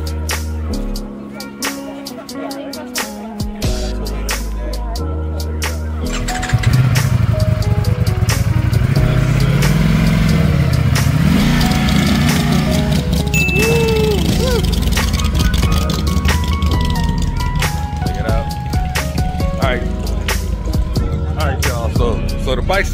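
Motorcycles rolling in at an outdoor bike meetup and breakfast gathering, a loud low engine drone with revving that swells and holds close by, while people talk nearby.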